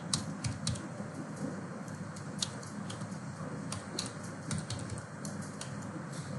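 Steady typing on a computer keyboard as a Gmail account password is entered, with quick, slightly irregular clicks at close range throughout, no voices over it.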